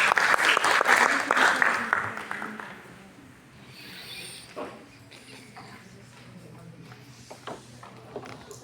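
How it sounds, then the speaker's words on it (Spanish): Audience applause fills a lecture hall at an innate immunity physiology talk, loud and dense for about three seconds, then fading into scattered claps and low room noise. "Un fuerte aplauso, por favor."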